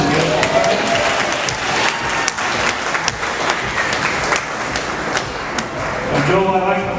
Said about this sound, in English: Everybody give a round of applause for Lindsay.